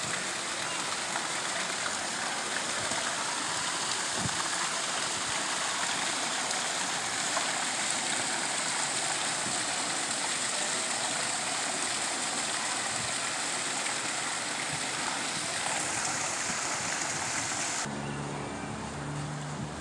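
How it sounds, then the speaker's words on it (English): Fountains at Miromar Outlets send up a steady, loud rush of splashing water that runs continuously, much like a stream or heavy rain, with faint outdoor background and no clear talk. "Fountains at Miramar"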